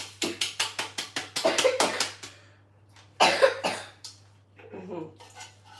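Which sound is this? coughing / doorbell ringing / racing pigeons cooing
coughing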